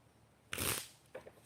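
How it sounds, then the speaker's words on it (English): Brand-new tarot deck shuffled by hand: a single stiff, papery riffle burst up close, followed by a couple of softer card flicks, with no talking. "This is a new deck, so it's kind of hard to shuffle"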